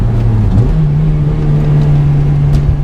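A Honda Civic Type R FD2 with drive-by-wire throttle holds a loud, steady engine drone that lifts briefly in pitch early on, then settles into an even hum.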